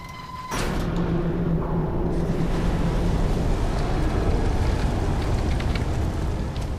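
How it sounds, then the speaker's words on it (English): A water whirlwind in the Amnesia horror game starts abruptly after a short tone and becomes a steady, loud rushing roar of churning water and wind that holds for several seconds. "Ooh, big scary water whirlwind."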